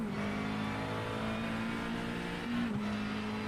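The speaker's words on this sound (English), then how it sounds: "The sound of the McLaren engine" McLaren race car engine in the iRacing simulator, an IMSA car at Spa-Francorchamps, holds a steady loud drone with a slight pitch rise and dip near the end, heard alone.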